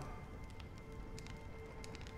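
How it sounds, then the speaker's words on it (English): Steady rain falls in a game world of Honkai: Star Rail, a dense, even hiss with scattered brighter drips and splashes and no voices. "When will this rain ever stop?"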